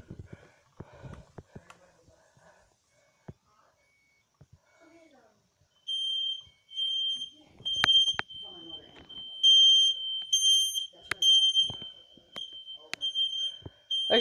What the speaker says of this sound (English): There's a rare smoke detector in here.